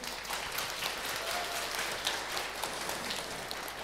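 A seated audience applauds after a school lesson talk, a dense even wash of many hands clapping at a steady level throughout, heard from within the room.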